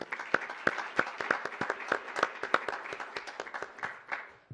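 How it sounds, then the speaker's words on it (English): Applause at a board of directors meeting honoring 30 years of service: a scattered round of hand claps with sharp individual claps at an uneven rhythm, moderately close, tapering off at the end. "let's applaud at least"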